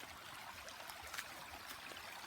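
A clear creek flows in a rural yard, a faint, steady hiss of running water with small trickling splashes throughout.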